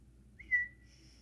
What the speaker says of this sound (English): if you hear me whistling, that's why it's a tic